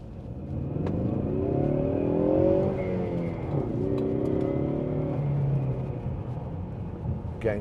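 Four-cylinder 2.3-litre turbocharged engine of a 2017 Ford Mustang EcoBoost Fastback pulling steadily through the gears, a continuous close drone rising and falling in pitch as it accelerates on the road.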